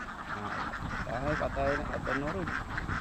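Ducks on a duck farm in Karuvatta, Kerala, quack in a noisy, overlapping cluster close by, with repeated nasal calls over a steady background murmur and a voice mixed in.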